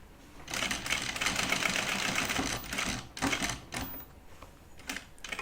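A sewing machine stitches a vinyl project bag along a quarter-inch seam, running in a fast continuous whir with brief pauses and stops near the needle, heard up close.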